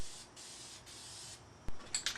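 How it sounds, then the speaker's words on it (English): Aerosol spray cans applying gray primer to a rusty metal main frame, heard as steady close hissing bursts that start and stop, followed by a few short sharp hisses near the end. "for this small project, spray cans will work fine and make the cleanup a lot easier."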